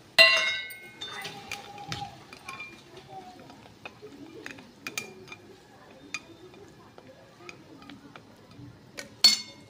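Broken pieces of Maggi instant noodles tumbling into a cooking pan, a close clatter at the start followed by scattered small clinks and rattles that fade, then another sharp clink at the end.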